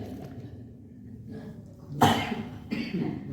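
A single sharp cough bursts out, loud and close, with a smaller follow-up huff afterwards, in a room with a voice speaking low before it.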